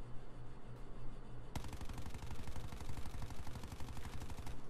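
An MX9 submachine gun in Call of Duty: Black Ops 4 opens up after a quiet moment, firing a loud, rapid, even automatic burst that continues without pause.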